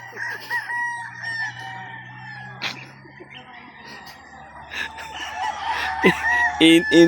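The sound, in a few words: chickens, hens clucking and rooster crowing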